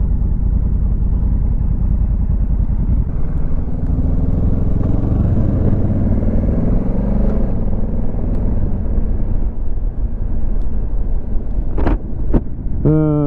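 A Honda CRF1100L Africa Twin DCT adventure motorcycle, 2022 model, rumbles steadily while riding, its engine note shifting as the automatic gearbox changes gears, with wind noise and a few faint clicks near the end.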